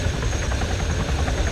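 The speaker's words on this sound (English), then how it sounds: "come on, let's get in the chopper." Helicopter engine in a military video game, a steady low rotor and turbine drone holding constant and fairly loud throughout with no voices.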